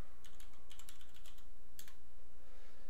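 Quick clusters of key clicks on a computer keyboard, a short burst of typing with brief pauses between keystroke runs, close and fairly clear over a faint steady hum.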